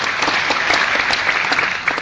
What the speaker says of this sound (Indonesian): Tepuk tangan yang paling untuk Anda semua.